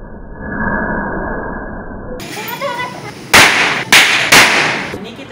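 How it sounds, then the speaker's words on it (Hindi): Firecracker bombs packed with gunpowder go off in three sharp, loud bangs in quick succession, after a stretch of muffled background noise. "जिसमें बारूद के साथ बम भी रखे गए।"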